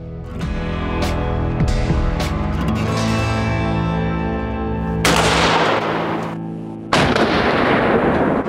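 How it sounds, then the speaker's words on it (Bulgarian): A shotgun fires cartridges meant for turtle dove hunting, two sharp, loud blasts about two seconds apart, each followed by a short echoing decay, after a stretch of quieter ringing tones. "направихме трети и последен изстрел за патроните ни за горголица"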